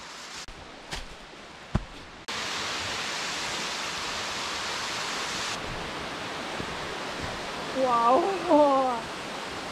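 A 20-meter waterfall in a gorge roars as a steady broadband rush after a few clicks and footsteps, with excited voices exclaiming near the end.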